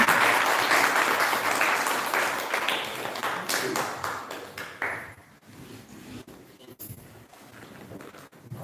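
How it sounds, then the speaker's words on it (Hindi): An audience at a stage ceremony breaks into dense applause that holds for several seconds, then thins to a few scattered claps as a voice speaks. "तालियां बजती रहनी चाहिए।"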